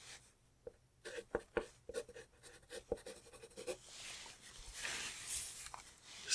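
A pen scratches and taps across paper in short, quick strokes as quiz results are written down, close and quiet, giving way to soft rustling.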